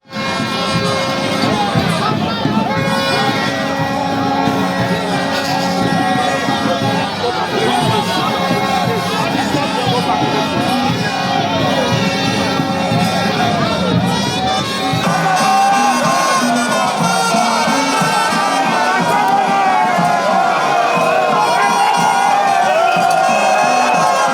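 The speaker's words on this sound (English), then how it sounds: "to the cheers of the crowds" A dense crowd roars and cheers continuously at a parade during a governor's inspection of the guard in Edo State, loud and sustained, with shouts and horn-like tones mixed through the din.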